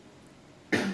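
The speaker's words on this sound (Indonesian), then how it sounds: "Aku jadi batuk sih gua." A single short, loud cough bursts out after a quiet room-tone stretch and lasts to the end.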